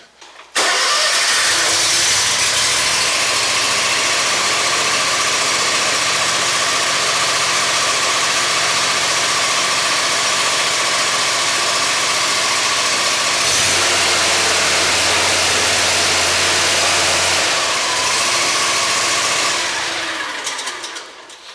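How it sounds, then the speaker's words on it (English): A zero turn mower engine cranks and catches, then runs in a loud, steady idle close by, with a brief shift in tone partway through before it settles again. "We're going to start it up here"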